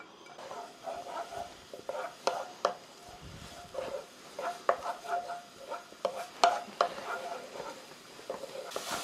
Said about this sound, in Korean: 기름을 살짝 두르고 마늘을